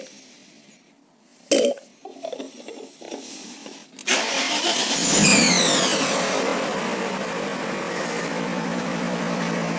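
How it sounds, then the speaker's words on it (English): A V8 BMW E39 M5 engine cranks and catches, then idles loudly with a high squeaky chirping whine riding over the running motor. "That squeaking Mickey Mouse sound, I don't know what that is."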